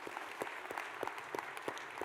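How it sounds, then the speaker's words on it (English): Applause from a conference audience for a National Guard event: a brief round of scattered clapping at moderate distance, steady and fairly soft, with no talking over it. "if we could give them a quick round of applause"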